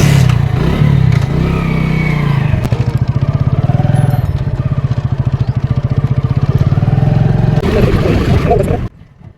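A motorcycle engine runs on Indian Oil petrol during a mileage test, a loud close rapid chugging pulse that holds steady for several seconds before tapering and cutting out near the end.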